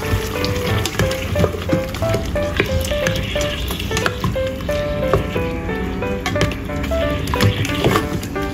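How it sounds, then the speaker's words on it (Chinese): Chicken wings with a spoonful of oyster sauce stirred in a rice cooker, a steady dense sizzle with repeated scraping stirs and light clinks running throughout, close and fairly loud. "加一汤匙蚝油炒一炒"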